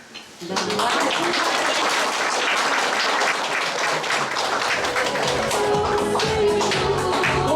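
Wedding guests in a cafe break into sustained applause, a dense steady roar of many hands clapping close by that starts abruptly and carries on without letup.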